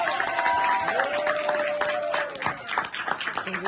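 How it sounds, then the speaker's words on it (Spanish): An audience at an evening performance applauds, dense clapping with a sustained tone and voices mixed in, fading in the last second. "¡Más fuerte el aplauso!"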